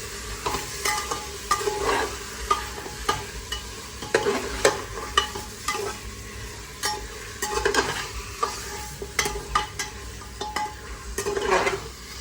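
Mutton masala sautéed in a pan, a spoon scraping and stirring in irregular close strokes over a continuous oily sizzle, with occasional clinks against the pan.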